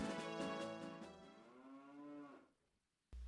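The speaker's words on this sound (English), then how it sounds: "Cow." A cow in Zelda: Majora's Mask gives a single long, clear moo that slides downward in pitch and fades out, followed after a short silence by an abrupt burst of game noise.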